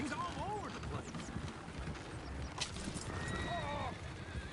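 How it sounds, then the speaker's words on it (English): Horses whinny and neigh several times in the Red Dead Redemption 2 video game, over a busy bed of hoof clatter and ambient game noise, with talking running alongside. "Oh, shit, the horses! Damn horses!"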